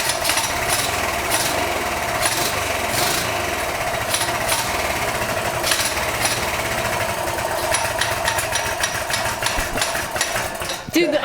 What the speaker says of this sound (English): the idle's too low